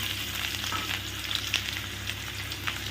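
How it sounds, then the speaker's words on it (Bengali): Chopped onion drops into hot oil with black cumin seeds, giving a steady, close sizzle and crackle with small pops and stirring scrapes throughout. "কালো জিরে ফোড়নটা দেবার পরে কি করবে, এই যে পেঁয়াজটা কুচিয়ে রেখেছি এই পেঁয়াজটা দিয়ে দেবো।"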